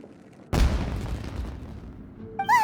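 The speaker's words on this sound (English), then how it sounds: "It sounded like fireworks." A firework bursts in the Genshin Impact video game, one sudden loud boom followed by a long rumbling decay, then a brief bright chime at the end.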